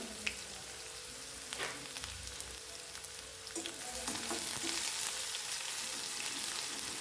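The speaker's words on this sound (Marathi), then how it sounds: "कांदा पण आपल्याला तेलावर छान परतून घ्यायचा आहे" Finely chopped medium onion sizzles in hot oil, a soft steady crackle with a few stirring scrapes and taps, close by and growing slightly louder toward the end.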